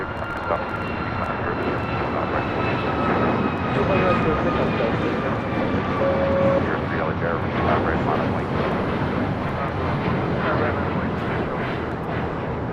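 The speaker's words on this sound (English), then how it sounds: "Next takeoff is Alaska Airlines Flight 1317 heading to Seattle. It's a 737 MAX 9." An Alaska Airlines Boeing 737 MAX 9 takes off at LAX, a loud, steady jet engine roar holding for the whole stretch with a broad rushing noise and faint whining tones, heard from nearby on the ground.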